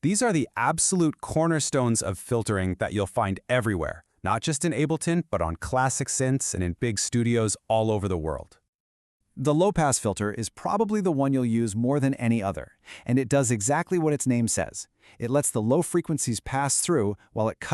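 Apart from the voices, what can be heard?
None of the usual background noises is heard.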